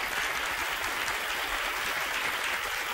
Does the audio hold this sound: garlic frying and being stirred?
no